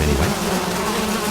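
Bees buzzing around a beehive in the video game Zork: Grand Inquisitor, a steady, loud droning hum that fills the whole moment without a break.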